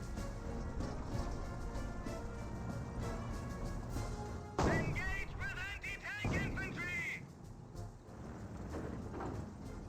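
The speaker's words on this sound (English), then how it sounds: "Mortar half track does see the hit there from the M180 gun" Gunfire and shell impacts from the M180 gun striking a mortar half-track in Company of Heroes, a sharp broadband crash near the middle amid dense battle noise, with game music and voices running throughout.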